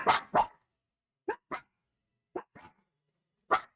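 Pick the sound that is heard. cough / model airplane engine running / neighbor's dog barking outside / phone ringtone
neighbor's dog barking outside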